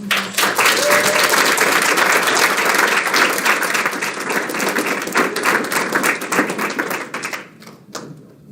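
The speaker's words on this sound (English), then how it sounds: "So please give these ladies a round of applause." A crowd at a school district governing board meeting applauding loudly with dense, rapid clapping that holds steady for several seconds, then thins out and fades near the end.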